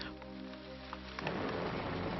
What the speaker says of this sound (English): Fell the raindrops, but there was no grass to absorb the drops.